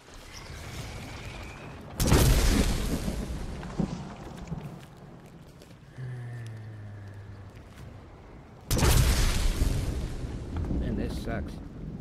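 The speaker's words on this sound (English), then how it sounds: "I love sleeping with the sound of thunder." Two loud, rumbling thunder crashes a few seconds apart in the game LEGO Fortnite, broad and booming, with a low mechanical hum and faint game sounds between them.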